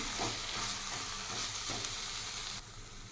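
Spice masala of coriander powder and cumin powder stirred in a hot pan for a water amaranth leaf curry, giving continuous close sizzling with scraping stirs that ease off near the end.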